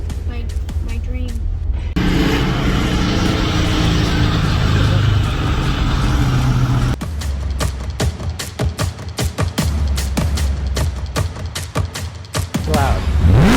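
A loud car roars past on the road for about five seconds, a dense steady roar that gives way to a lower, pulsing engine rumble as it moves off.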